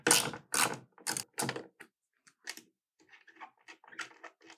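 A crescent wrench works a fitting loose from a wall, giving several sharp, close metallic clicks and scrapes in quick bursts, followed by lighter, scattered ticks and rattles.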